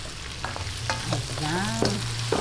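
Onion and tomato sauté in butter in a pan, a steady close sizzle with scraping and clinking of a stirring utensil, no talk.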